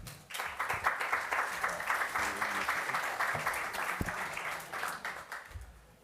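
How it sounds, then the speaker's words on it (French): Audience applause fills a French conference hall as a guest is welcomed onto the stage, dense steady clapping from a sizeable crowd that holds throughout before tapering slightly at the end. "Vous pouvez l'applaudir."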